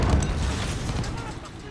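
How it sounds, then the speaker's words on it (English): Mortar fire in Call of Duty, a heavy booming explosion with a deep rumbling tail that fades over a second or so, close and loud, with a voice shouting over it. "Enemy mortars, move!"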